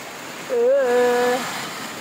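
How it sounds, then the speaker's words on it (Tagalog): Heavy rain pours down at a house in the Philippines, a steady hiss of broad noise running under the whole clip while a single voice briefly speaks over it. "Ulan."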